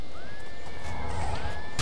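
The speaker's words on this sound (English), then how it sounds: "Look at that, my horse is kicking his ass." A horse neighs during combat in the video game Oblivion, a rising whinny followed by a second call, clear and fairly close over a steady background of game noise.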